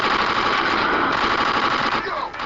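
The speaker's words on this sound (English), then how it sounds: "Zombie Wars is an action shooting game where you run around blowing up bad guy zombies" Rapid continuous gunfire from the action shooter video game Halloween Harry Zombie Wars, where zombies are shot, loud and steady throughout with a slight drop near the end.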